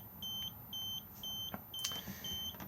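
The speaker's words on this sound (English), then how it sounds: "if I press this, it will beep at us" The control panel in an Elddis Xplore 304 caravan sounds a warning beep, five short, evenly spaced tones repeating in a steady rhythm. Faint clicks can be heard in the quiet interior.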